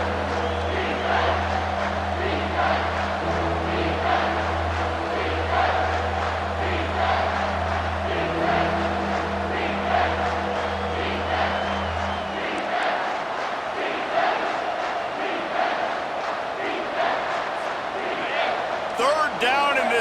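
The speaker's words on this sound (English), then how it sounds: "this crowd will blow out a vocal cord to help this defense" A stadium crowd in EA Sports College Football 25 roars steadily for the whole stretch, loud and sustained, with a droning horn-like tone in the first part that drops away, and commentary runs over it.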